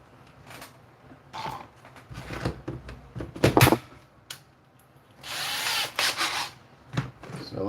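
Power drill driving a 1/8 inch bit, in a workshop setting where resin castings are being finished, heard as several short whirring bursts with a longer louder run near the end, close and alone, mixed with small handling clatter.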